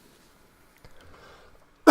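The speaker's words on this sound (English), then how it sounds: "I don't know what is up with me coughing." A single sharp cough bursts out loudly at the very end, after a stretch of quiet room noise and faint shuffling.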